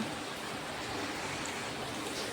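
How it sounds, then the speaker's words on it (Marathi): Heavy early-morning rain pours outside a house in a continuous, even hiss of dense drops, moderately loud and without any speech. "बाहेर बघा पाऊस किती पडतो भरपूर असा पाऊस चाललाय"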